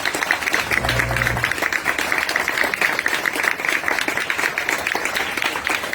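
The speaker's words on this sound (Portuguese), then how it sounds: "Uma salva de palmas." Applause from an audience at a film debate, a steady dense patter of clapping sustained throughout, with a brief low tonal hum early on.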